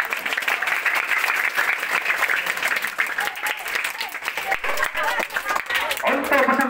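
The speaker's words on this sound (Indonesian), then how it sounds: "Tepuk kanan." A crowd claps steadily in a dense, sustained round of applause at a quiz competition and prize-giving at an Islamic boarding school, loud and close, with some voices mixed in.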